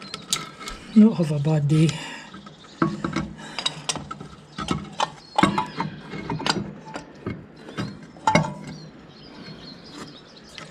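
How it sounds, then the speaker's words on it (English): The brake pedal ratchet on a 1955 Fordson Major tractor clicks and clanks in irregular metallic bursts as parts are worked into place, mixed with scraping and brief speech. "there's a ratchet on the brake pedal for these teeth to go into"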